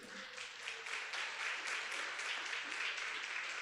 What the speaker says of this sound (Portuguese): Vamos aplaudir nosso presente?